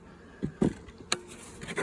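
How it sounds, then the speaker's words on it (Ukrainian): A faint honeybee buzz comes and goes in short bursts, with a few soft knocks between, close by and fairly quiet, at a queen-rearing nucleus hive. "Тут є бджола, тут є бджола."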